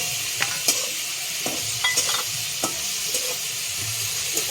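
Chicken being mixed by hand with ginger, garlic, cumin, onion, turmeric and mustard oil for a marinade: soft wet squelches and scattered clicks over a steady hiss, close and moderately loud, with no talking.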